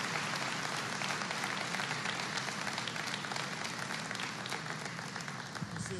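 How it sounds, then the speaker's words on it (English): Large audience giving a sustained round of applause at a live event, a broad, even roar of many hands clapping at a distance, steady from start to finish. "give them one last big round of applause"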